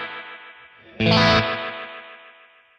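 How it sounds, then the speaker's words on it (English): A guitar note runs through a Kemper Profiler single delay set to wide stereo. A fading sustained tone is followed by a bright, loud struck chord that rings out and decays smoothly with lingering repeats. "So the single delay, even it's a single delay, can be wide stereo."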